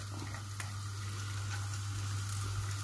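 Prawn heads with ginger, garlic and chili frying in a hot pan, a steady close sizzle with a low constant hum underneath.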